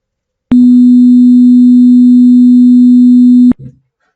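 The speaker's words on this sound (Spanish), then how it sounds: "Ahora lo cambiaremos por una fase de pi cuartos." Synthesized pure sine tone with its phase shifted by pi over four, a loud steady single pitch starting sharply and holding for about three seconds before stopping abruptly, with a faint trailing blip.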